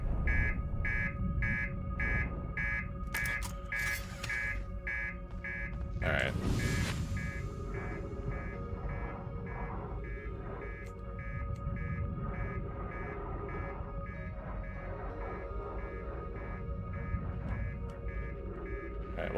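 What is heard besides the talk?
spaceship master alarm from the video game Outer Wilds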